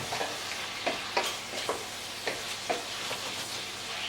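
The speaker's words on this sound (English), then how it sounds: "we'll chuck in the mushrooms. Give them a stir." Mushrooms being stirred in a frying pan for a green Thai curry, a soft sizzle broken by about eight quick scraping strokes of the spoon, close and quiet, no talking.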